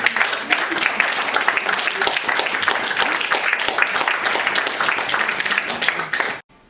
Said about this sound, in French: Et on vous applaudit.